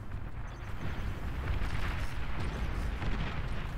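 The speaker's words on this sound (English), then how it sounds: "There was an explosion." Explosions rumble in the Beyond All Reason real-time strategy game, a dense, continuous roar of deep booms and crackling blasts that stays loud and steady throughout.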